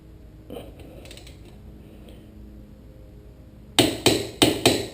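A hand wrench works on the brake caliper bolts of a Porsche Cayman 987, quiet faint clicks early, then four sharp metallic ratcheting strikes in quick succession close by, with no talk.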